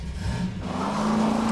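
Muscle car engine in Half-Life 2 revving up, a steady low rumble that rises in pitch toward the end, close and continuous.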